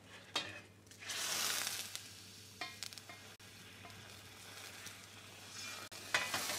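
Duck pieces frying in a pan as the juices caramelize, a steady soft sizzle with a louder hissing burst near the start and occasional scrapes and stirring clatters, close and alone.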